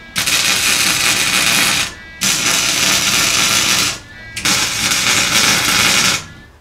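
A welder tacks and burns in a 1/8 inch steel end cap on a Jeep Cherokee XJ rocker panel, giving three loud, sustained crackling hisses of about two seconds each with short gaps between.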